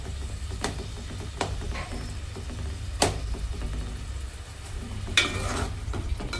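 Food frying in a pan on a gas stove, a steady low sizzle and crackle with occasional sharp ticks and spatters, close and continuous, no voices.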